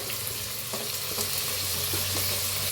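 Tomatoes hit a pan already frying potatoes and curry leaves for a paneer masala dish, giving a loud, dense, continuous sizzle with a few soft scrapes of stirring, no voices.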